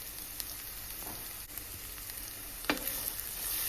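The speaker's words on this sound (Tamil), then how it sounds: "வெங்காயத்தோட தண்ணி சத்து போகிற அளவுக்கு நம்ம நல்லா வதக்கி எடுத்து எண்ணெய் பிரிகிற அளவுக்கு வதக்கி எடுக்கணும்" Onions and cross-cut green chilli sautéing in a little oil for a restaurant-style egg gravy, a steady soft sizzle and crackle running throughout with a few faint stirring scrapes and one sharper clink near the end.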